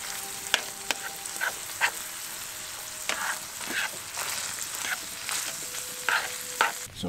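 Pasta sauce sizzles and bubbles in a pan while a utensil stirs and scrapes it in repeated short strokes, close by, during winter camping in a hot tent.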